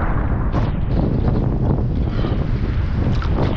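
Strong wind buffets the microphone in a continuous low roar, gusting unevenly throughout with no voices, on the coast at Bahía San Blas, Argentina.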